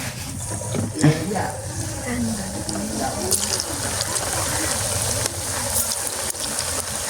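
Sweet dough balls fry in hot oil with a steady, hissing sizzle that continues throughout, under a person talking.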